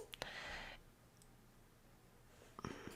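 Right-clicks of a computer mouse while working in Adobe Illustrator, a few quiet sharp clicks near the start and again near the end, with soft hiss in between.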